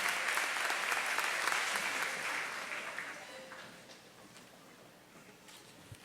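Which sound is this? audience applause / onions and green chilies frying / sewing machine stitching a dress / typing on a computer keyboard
audience applause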